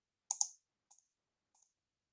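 A few crisp, faint computer mouse clicks in an otherwise silent room: a quick double click followed by two single clicks spaced about half a second apart.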